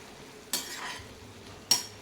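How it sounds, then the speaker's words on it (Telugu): Cooked tomatoes with tamarind being stirred in a pan, two sharp scraping strokes of a spoon against the pan over a quiet low sizzle. "ఇది ఒకసారి బాగా మిక్స్ చేసేసుకొని"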